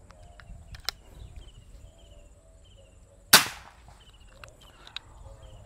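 One sharp PCP air rifle crack, near and loud, stands out against a soft backdrop of chirping insects and small ticks.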